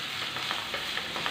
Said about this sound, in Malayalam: സവാള അത്യാവശ്യം നമുക്ക് നല്ല രീതിയിലൊന്ന് വഴറ്റിയെടുക്കാം